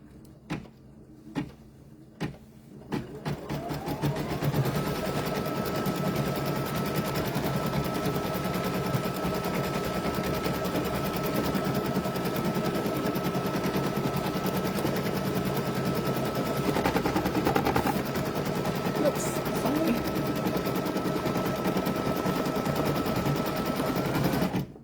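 An embroidery machine runs an appliqué placement stitch on a t-shirt. A few sharp clicks start it, then a steady rapid mechanical stitching chatter with a whining motor tone follows, close and continuous for over twenty seconds, with no talk.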